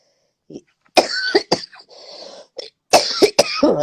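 A person coughs in a few harsh, close bursts, with brief pauses and some breathy noise between them.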